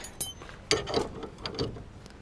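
Mechanical ratcheting clicks and scraping as a part is hand-tightened on a brick, a few uneven bursts of turning over about two seconds, close and moderately loud.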